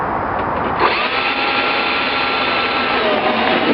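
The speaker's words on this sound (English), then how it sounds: "So I'll drill some drainage holes about 3 inches up." A power drill whines steadily and close by, drilling drainage holes in a plastic bin: a continuous high motor drone with a slight pitch shift near the start as it bites into the plastic.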